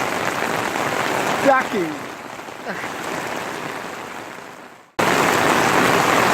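Torrential rain pours steadily onto tarps at an outdoor car swap meet in Carlisle, a loud, dense hiss that continues after a brief cut, with a short spoken word and faint voices beneath.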